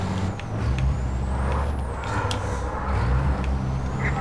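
Truck air brakes hiss in Truck Racing Championship over a loud, steady diesel engine drone, with rising and falling engine tones throughout.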